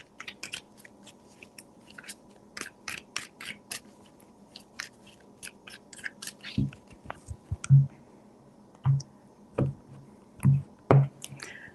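Tarot cards are shuffled up close, a run of crisp, quiet riffling and snapping bursts that grows more distinct and rhythmic toward the end.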